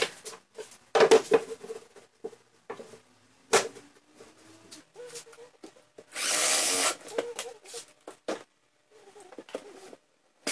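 A saw cuts through a scrapwood plywood box to trim it down to size, with one loud, steady burst of cutting noise lasting about a second amid scattered workshop knocks and handling sounds.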